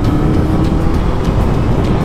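An FKM Expres 500 SC scrambler motorcycle on a test ride holds a steady, loud engine roar with wind rush, cruising at constant revs throughout.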